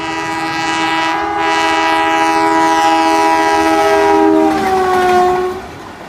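A train passing with a loud sustained multi-tone horn blaring for several seconds over rumbling wheels, the horn pitch bending and fading as it goes by.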